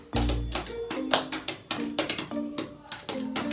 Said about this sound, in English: That is the sound of me just poo picking her